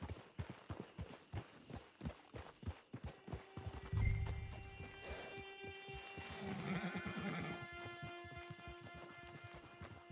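A horse in Red Dead Redemption 2 clip-clops at a steady walk with evenly spaced hoofbeats, then lets out a loud whinny and snorts midway, the hooves continuing throughout.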